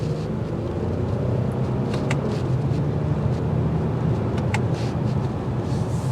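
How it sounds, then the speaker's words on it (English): A 2024 Toyota Camry XSE with a naturally aspirated V6 drives along, giving a steady low engine and road drone with wind rush, heard from inside the cabin without talk. "The V6 engine does a great job, naturally aspirated"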